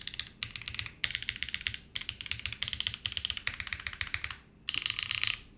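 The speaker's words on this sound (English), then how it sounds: "Yeah, the arrows do sound really good." Arrow keys tapped on a Fuji75 prototype mechanical keyboard with an unsupported plate, a run of quick, close, clacky keystrokes in several bursts with short pauses between them.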